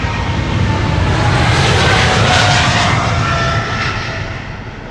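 A KLM airliner jet at Amsterdam Schiphol Airport roars loud and steady, a broad engine rush that swells slightly then eases as it passes, with no voices over it.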